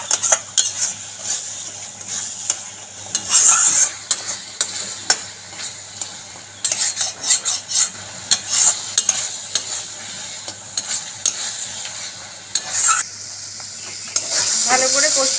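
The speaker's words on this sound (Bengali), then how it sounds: "বেশ অনেকক্ষণ ধরে এই মশলাটাকে কষতে হবে।" Masala for potato dum being fried and stirred in a pan, with bursts of sizzling and repeated metal spatula scrapes against the pan, close and uneven, with occasional quiet gaps.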